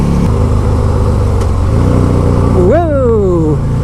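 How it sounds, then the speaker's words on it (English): A stock 2004 Buell XB12 motorcycle downshifting on the road, steady engine drone under wind, then a sharp rising rev blip that sweeps up and falls away, loud and close to the rider. "I just downshifted there"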